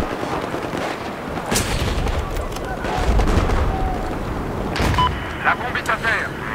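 Enemy machine gun fire in Battlefield 4, a dense run of gunshots and booms close by in a chaotic battle mix, with players talking over it.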